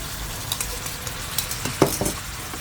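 Red jinda and red spur chilies stir-fried in a pan for a crispy fried catfish dish with long beans, sizzling steadily while a utensil scrapes and taps against the pan in irregular strokes, close by.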